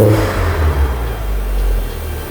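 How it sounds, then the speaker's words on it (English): A Vauxhall Nova VXR engine idles low and then lifts in a brief, moderate rev, close by with a steady rumble and no talking. "Give it a little rev."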